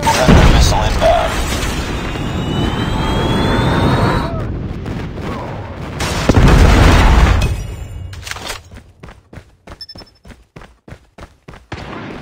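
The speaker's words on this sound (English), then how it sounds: "Friendly airstrike incoming. Counter UAV is up. Good work. Predator missile inbound." In a Call of Duty game, airstrike and Predator missile explosions hit with loud booming blasts and rumbling, then give way to a series of rhythmic sharp gunfire bursts, with game voice callouts over the action.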